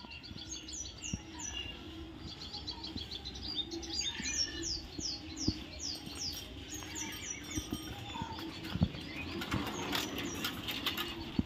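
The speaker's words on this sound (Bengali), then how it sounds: "পাখির এত কলরব কি বলবো।" A dense chorus of many birds chirps and calls outdoors, rapid high twitters and whistled phrases overlapping throughout, with soft rustling and flutters underneath.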